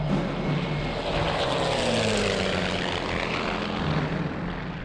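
A Messerschmitt propeller plane roars past low and loud, its engine note sweeping downward as it passes close overhead and then fades slightly.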